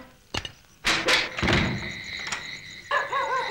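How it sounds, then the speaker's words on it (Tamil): Knocks land on a door in a Tamil horror film scene: a sharp early tap, then a few heavy, booming thuds close by, followed by quieter rustling and a thin tonal sound. "கதவு தட்டுன சத்தம் உனக்கும் கேட்டுச்சு இல்ல?"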